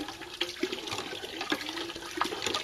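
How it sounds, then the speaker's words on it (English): Water gushes and splashes from a hand-pumped well near a fire tower lookout, a continuous close rush with faint rhythmic creaks of the pump and no talk. "Alright, that's enough pumping."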